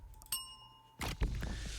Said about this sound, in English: Oh, and then we press the bell